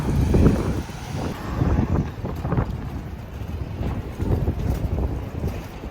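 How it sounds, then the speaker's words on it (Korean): Strong wind blows outdoors on a New York street, a steady rushing roar with loud buffeting gusts hitting the microphone throughout, no voices. "바람이 엄청 부네요"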